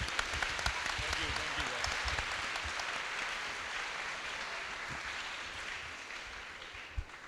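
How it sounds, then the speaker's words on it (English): An audience at a school leadership lecture breaks into sustained applause for two tennis players, a steady wash of clapping from a large crowd that holds for several seconds, with faint voices mixed in. "Can we have a huge round of applause for them?"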